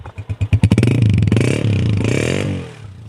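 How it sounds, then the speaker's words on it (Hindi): A used Honda 125 motorcycle at a roadside bike market starts with a few quick engine pulses and then revs hard into a loud, close, steady roar before dropping back toward idle. "Engine sound."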